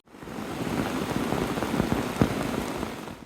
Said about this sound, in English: It rained all night last night. Just poured and poured and poured.